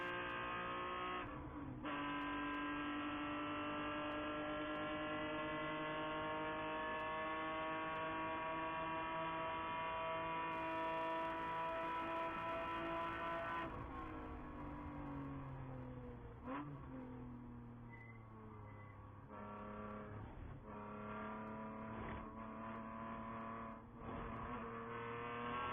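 BMW race cars and other endurance racers at Daytona, running through turn 6 in a 14-hour event, roar steadily with loud revving engines and shifting pitch as cars pass close by.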